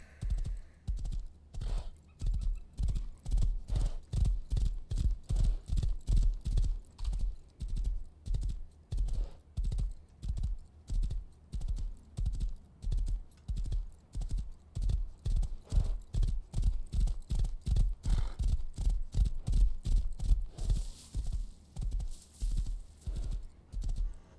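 A horse in the Rust zombies game trots with a loud, steady run of close clip-clopping hooves, broken now and then by a faint higher sound that could be a neigh.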